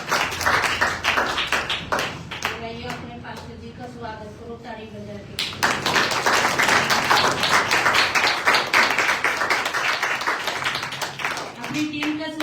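Church congregation at a Sunday praise and worship service clapping hands in unison to welcome the team, loud rhythmic claps close by, mixed with a voice speaking over part of the clapping.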